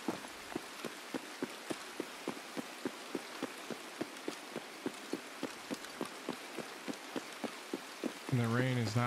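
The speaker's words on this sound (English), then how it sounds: "And the rain is not helpful." Steady rain patters in the Escape From Tarkov video game, a dense hiss broken by a regular run of soft thumping beats like footsteps, with a brief warbling tone rising at the very end.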